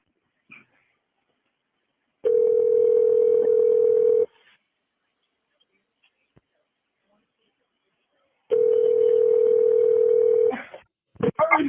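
Two long steady telephone line tones, each lasting about two seconds with a gap of quiet between, ring out during a 911 call being transferred to medical, followed by brief clicks and rustle.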